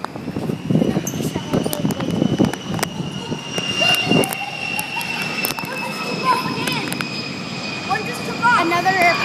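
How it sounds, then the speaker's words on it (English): An airplane taking off near a helicopter base gives a steady jet engine whine that stays present throughout, while people talk and exclaim close by. "why do those airplanes keep taking off?"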